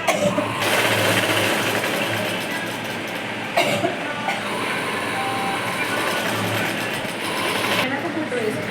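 A sewing machine runs in steady close bursts while stitching a dress lining, its rapid mechanical chatter pausing briefly between runs.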